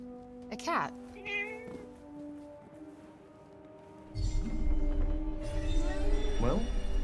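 A cat in the video game Forspoken gives several short meows early on, then a fuller meow later over a rising background hum and a voice.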